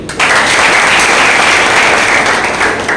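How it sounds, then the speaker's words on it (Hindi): An audience at a talk breaks into loud, dense applause that starts abruptly and holds steady throughout, many hands clapping together close by. "एक बार ताली बजाइए।"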